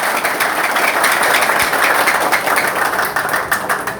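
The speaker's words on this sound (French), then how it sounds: "Je vous demande d'applaudir encore une fois." An audience applauds at a gathering, a steady, dense wash of clapping that holds strong and close throughout with no voices over it.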